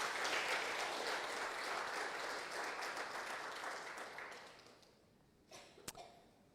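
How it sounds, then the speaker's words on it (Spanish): A church congregation gives loud, sustained applause that gradually thins out and fades, followed by a few sharp knocks near the end. "Denle un fuerte aplauso al Señor en acción de gracia."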